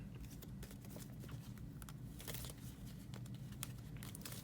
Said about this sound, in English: Then we shuffle.